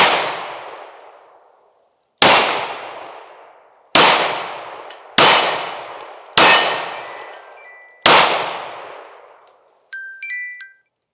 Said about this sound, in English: Here, we'll shoot it right-handed.